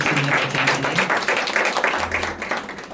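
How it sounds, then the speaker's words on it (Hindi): Church congregation applauds in a steady burst of dense clapping, fairly loud and close, with a faint voice underneath. "सिस्टर नीरज के लिए एक बार जोरदार तालियां।"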